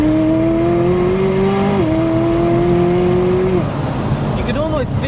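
McLaren 600LT Spyder engine note holding a steady rising drone with a gear change, then easing off into light pops and crackles from the exhaust, heard from inside the car with some talk over it.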